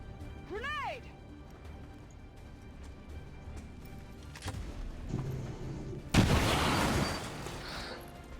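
A grenade explodes in XCOM 2, a sudden loud crashing blast that breaks in after a stretch of quieter game sounds and a rising whistle, then rumbles and decays over a couple of seconds.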